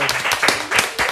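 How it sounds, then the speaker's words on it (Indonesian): A few people clap at an online student government talk, several distinct close claps in an uneven rhythm over about a second, with low background noise between them. "Kita tepuk tangan dulu."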